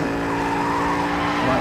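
Tires squeal and skid on a Jaguar F-Type drifting left through a turn in Need for Speed No Limits, a sustained, loud screech over a steady engine roar.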